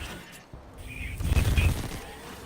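Submachine gun fire in Destiny 2 comes as a burst of rapid, muffled shots with booming low thuds mixed into game sounds, fairly close and building to a dense middle before easing off.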